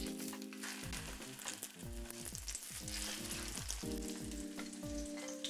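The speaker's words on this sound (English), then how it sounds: "Since the pork is only about 1/4 inch thick, it won't take too long for it to cook." Breaded pork cutlets about a quarter inch thick, coated in flour, egg wash and breadcrumbs, fry in a pan of vegetable oil with a dense, even sizzle, alongside a melodic background tone.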